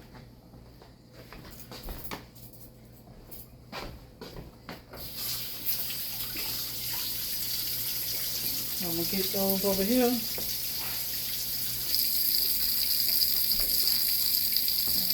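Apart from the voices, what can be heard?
water running from a tap into a cooking pot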